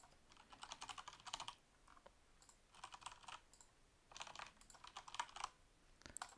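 Card payment details being typed on a computer keyboard into a checkout form: quiet, rapid bursts of key clicks separated by short pauses.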